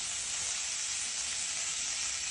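Cauliflower and aubergine with roast masala cook under a lid in a pan used like a wok, giving a steady close sizzle and hiss of frying that continues throughout.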